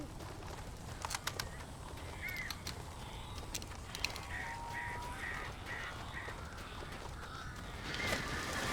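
Crows caw in the Alan Wake video game, a series of harsh repeated calls at a middle distance over an ambient noise bed, with a few sharp clicks early on.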